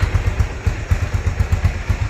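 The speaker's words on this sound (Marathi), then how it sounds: "ह्याच बाईकवर आम्ही जाणार आहोत, ॲव्हेंजर, आमची दुसरी बाईक" A Bajaj Avenger motorcycle engine idles close by with a steady, thumping low putter that pulses evenly for a couple of seconds.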